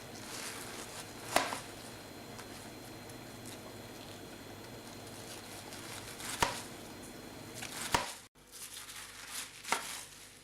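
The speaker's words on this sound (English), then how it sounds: "We're going to cut the cabbage in half and then cut slices out of it, just like that." A knife slices through a halved cabbage on a board, giving a few sparse, soft cuts spread across a quiet stretch with no talking.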